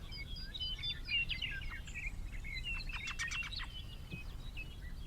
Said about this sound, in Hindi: पेड़ पे पंछी चहचहा रहे हैं।